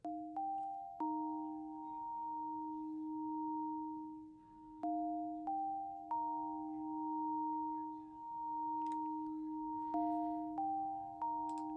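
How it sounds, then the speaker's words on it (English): Soft synthesized bell-like tones ring in a repeating pattern of steady pitches that shift between two notes, quiet and clean with faint clicks. "There were also these little bells."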